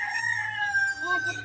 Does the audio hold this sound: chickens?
yes